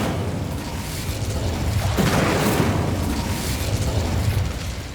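An Incendio fire spell in the video game Hogwarts Legacy bursts out as a loud, roaring blast of flame that swells and sustains for several seconds, with no voices.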